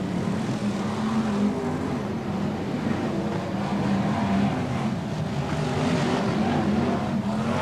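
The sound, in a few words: BriSCA Formula 1 stock cars racing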